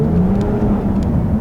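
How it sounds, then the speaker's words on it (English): Low, steady exhaust burble from the sport-tuned quad-tip exhaust of a 2019 Toyota Avalon Touring V6, heard from inside while cruising, a continuous rumble with road noise and a couple of faint higher whooshes as it passes under an overpass. "it's actually got a nice little burble that you wouldn't think you'd be able to hear"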